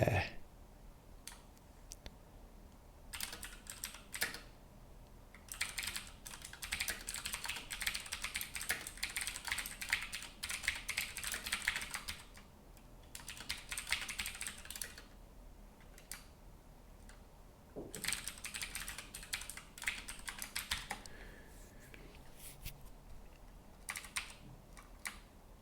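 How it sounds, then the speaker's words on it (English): Rapid clicking keystrokes on a computer keyboard come in long bursts with brief pauses between them, close and steady throughout. "Getting tired of typing."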